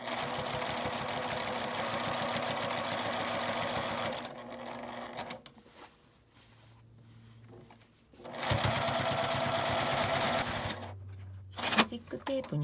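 Sewing machine stitching along the edge of a fabric cutlery case, loud and steady in two long runs with a quieter pause between them, then a brief final burst.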